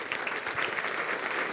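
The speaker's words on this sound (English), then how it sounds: "give a round of applause for all the speakers yesterday" Conference audience applauding speakers at a marketing mastermind event, a dense, steady patter of many hands clapping at moderate distance, continuous through the short stretch.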